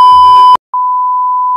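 A loud electronic beep tone starts under brief background sound, cuts out for a moment, then returns as a long, steady, piercing tone.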